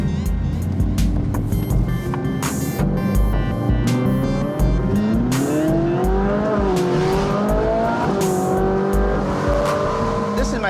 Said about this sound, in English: This is my commuter car, so I drive it every day to work.